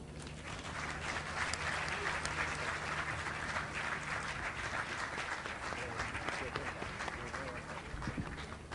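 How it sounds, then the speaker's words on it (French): Dense, steady applause from an audience at a foundation gala evening, a continuous wash of many hands clapping that holds evenly for the whole stretch, close and full. "Encore des applaudissements pour ces moments d'émotion, mesdames, mesdemoiselles et messieurs."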